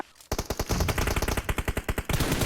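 Rapid automatic gunfire from a PUBG match bursts out after a brief quiet moment, a dense string of close, loud shots rattling on for about two seconds.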